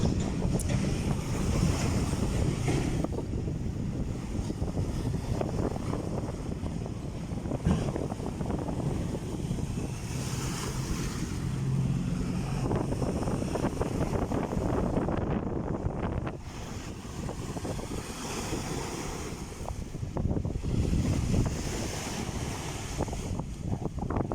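Heavy surf rolls and crashes continuously on Manila Bay, mixed with strong wind buffeting the microphone, loud throughout with no speech.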